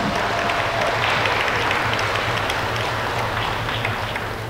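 Church congregation applauding in welcome during a Korean Presbyterian festival worship service, a dense, steady wash of many hands clapping that stays loud and even throughout with no talk over it.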